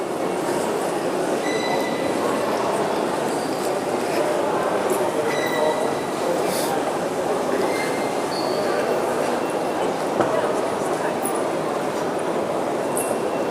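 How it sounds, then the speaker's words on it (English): An underground subway train approaches a platform with a steady, loud rumbling roar of wheels and motors, the noise filling the station continuously with faint squeals and clanks on top. "How about if we test the sound with the train sounds approaching us?"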